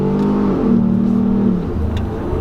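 A 2018 Ford Explorer Sport accelerates hard in first gear, its engine note rising, briefly dipping at a shift-like break, then climbing again in a steady loud drone inside the cabin.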